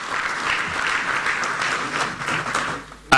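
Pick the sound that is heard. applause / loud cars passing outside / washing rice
applause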